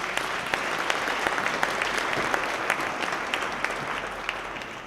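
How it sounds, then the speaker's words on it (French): An audience at a university welcome event applauds steadily, dense clapping from a large crowd that fills the room without letting up, close and moderately loud, with no one speaking over it. "on peut les applaudir"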